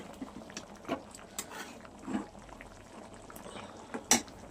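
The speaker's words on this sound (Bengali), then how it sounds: "সুন্দর ফুটছে।" Chicken and mung dal bubble away in a pot, with irregular pops and gurgles at close range, some louder bursts standing out from a soft simmering background.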